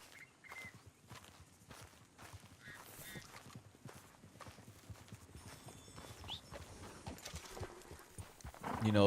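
A horse's hooves clip-clop in a steady, fairly close walking rhythm that grows slightly louder over about nine seconds, with faint bird honks in the background.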